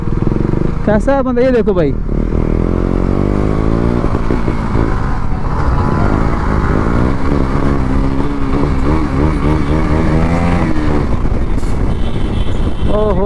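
A Yamaha R15 motorcycle races through heavy traffic, its engine revving and shifting in rising pitch sweeps under steady wind noise, while someone talks excitedly over it.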